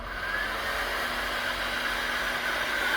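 A running hair dryer, drawing power from a hybrid inverter on a 230-volt supply with a 48-volt battery bank, gives a steady, even whoosh with a thin constant tone over it and no speech.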